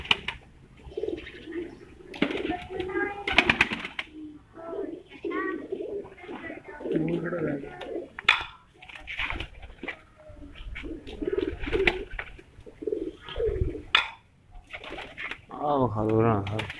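Pigeons coo in soft, repeated throaty rolls nearby, with occasional wing flaps, while people talk intermittently in the background.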